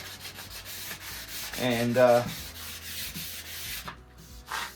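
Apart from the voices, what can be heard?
hand sanding wood with 240 grit sandpaper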